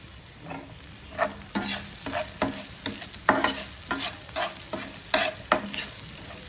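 Chopped onion sautéing in a pan for a Kathiyawadi dhaba-style vaghareli rotlo, with a loud steady sizzle and regular scraping strokes of a spatula roughly every half second, close up and without speech.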